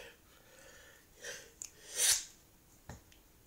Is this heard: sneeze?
yes